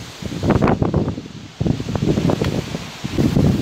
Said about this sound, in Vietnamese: Gió các bạn nghe không? Hù. Quá trời gió luôn á.